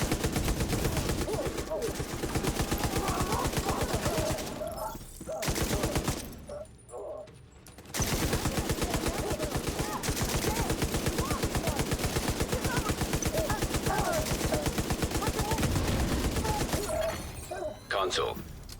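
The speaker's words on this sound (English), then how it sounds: "Why don't I use this LMG?" Light machine gun in a video game firing in long sustained bursts, loud and continuous, with two short pauses between volleys and a brief spoken interjection in one gap.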